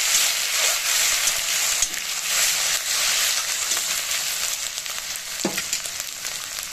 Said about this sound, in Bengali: 1 চামচ পরিমাণ আদা বাটা আমি দিয়ে দিলাম।